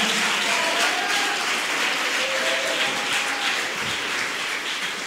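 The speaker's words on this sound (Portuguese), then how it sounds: "Você pode aplaudir o nome do Senhor Jesus?" A church congregation claps together during a sermon, a sustained, fairly loud wash of many hands with a slight fade near the end and faint voices underneath.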